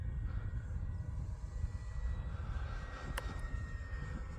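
E-flite Focke-Wulf Fw 190A RC model plane with its electric motor at about half throttle, a steady broad whirring drone with wind noise, moderately close and alone.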